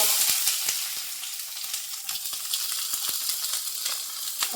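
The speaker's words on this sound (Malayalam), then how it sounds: "എണ്ണ ചൂടായതിലേക്ക് ഇത്തിരി കടുക് കേട്ടോ. നമ്മളെടുത്ത് വെച്ചിരിക്കുന്ന സവാള," Mustard seeds and onion frying in hot oil give a steady, close sizzle with sharp scattered crackles and pops throughout, with no talking.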